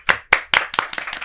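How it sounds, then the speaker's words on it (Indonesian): A few people clapping hands during a podcast recording, several sharp, close claps in a quick uneven burst lasting about a second. "Tepuk tangan dong"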